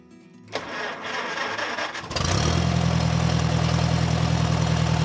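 A Farmall International tractor engine cranks and catches after a hydraulic pump rebuild, then settles into a loud, steady, low rumbling idle that runs close by to the end.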